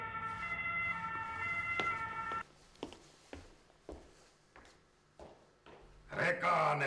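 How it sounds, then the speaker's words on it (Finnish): An ambulance siren wails with a strong, steady tone, then stops abruptly and gives way to scattered knocks and thumps, with a burst of noise near the end and people talking. "Ambulanssi tulee!"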